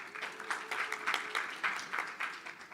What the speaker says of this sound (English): I expected a bigger clap, or louder clap for that.